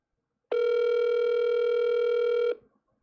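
A telephone ringing on an unanswered call, a single steady electronic ring tone lasting about two seconds, clear and close, heard alone without talk.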